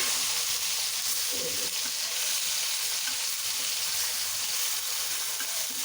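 Cauliflower frying in a pan gives a steady, dense sizzle that runs unbroken throughout, close and fairly loud with no voices over it.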